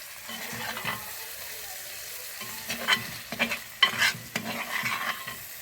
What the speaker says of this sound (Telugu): ఇవన్నీ కూడా రంగు మారేంత వరకు ఫ్రై చేసుకోవాలి.